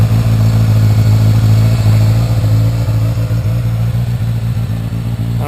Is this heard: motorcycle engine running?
yes